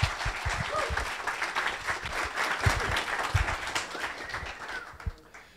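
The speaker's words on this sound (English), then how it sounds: "Please welcome him with a huge applause." Conference audience applause for a speaker taking the stage at a developer conference, a broad dense crowd clapping sustained for several seconds, moderately distant, fading toward the end.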